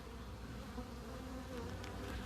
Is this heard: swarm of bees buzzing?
yes